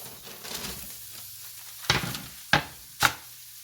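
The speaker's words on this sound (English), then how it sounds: "And I'm going to go ahead and give it a nice saute." T-bone steak meat sautéing in butter: a low, soft sizzle broken by three sharp utensil strikes against the pan, close and quiet, no voices.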